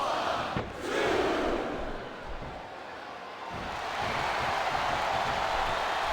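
Wrestling arena crowd in the WWE 2K25 video game, a broad sustained roar of many voices that swells early, dips slightly mid-way, then rises again, filling the space without any commentary.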